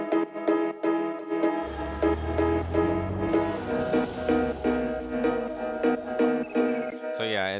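Three stacked synth and piano melody layers from a house track play together, bright repeating chords over a deep bass that enters after a moment, steady rhythmic pulses throughout and a rising sweep near the end.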